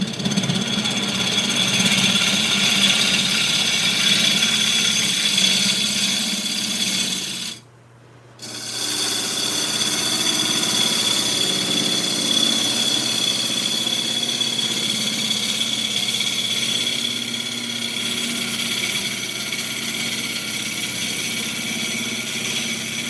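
A wood lathe turns a wooden bowl, giving a steady, close whirring and cutting drone that drops out briefly and then resumes, with no talking.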